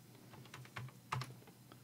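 Computer keyboard typing while entering a size value in Word 2019, a quick run of soft, close key clicks with a couple of louder taps, heard alone.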